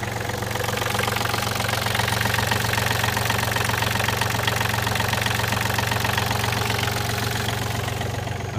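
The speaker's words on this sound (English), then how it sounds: "The sound of a Yanmar diesel, 3-cylinder." A three-cylinder Yanmar diesel engine idles steadily and loudly up close, its even low throb and rattling, knocking mechanical clatter holding constant throughout with no other sounds.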